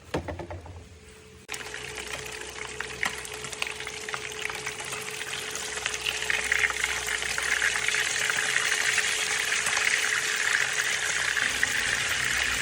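Fish fries in hot oil in a pan, a dense, steady sizzle and crackle that begins with a sudden burst and keeps hissing loudly throughout, with a faint hum underneath.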